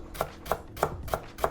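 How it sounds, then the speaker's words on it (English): Fresh lemongrass is chopped on a cutting board with a big chef's knife, five steady, evenly spaced thuds, close and crisp with no talking. "first I'm gonna chop the lemongrass up a little bit to help the machine out."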